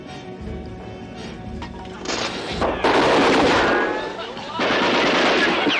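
Dense bursts of video-game gunfire ring out as a squad storms a compound, with rapid automatic volleys and heavy blasts building into a loud, sustained barrage.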